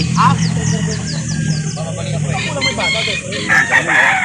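Roosters crow repeatedly at a busy chicken market in Calauan, including a 15-month full-grown stag, with sharp rising calls early on and more crowing near the end over steady crowd chatter and clucking.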